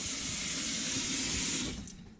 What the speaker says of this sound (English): Well, you let it run long enough, there'll be hot water in the bathroom.